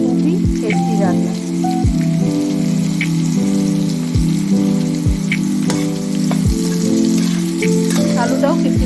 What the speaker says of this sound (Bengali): এবার আমি ফোড়নে শুকনো লঙ্কা আর কালো জিরেটা সাইড থেকে দিয়ে দিচ্ছি।